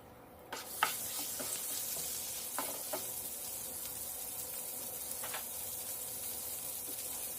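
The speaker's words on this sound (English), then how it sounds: "I'm gonna add the garlic to the pot to infuse the oil and butter with the garlic" Chopped garlic dropped into hot grapeseed oil and butter in a pot, a steady close sizzle with a few sharper crackles early on, continuous and alone without voices.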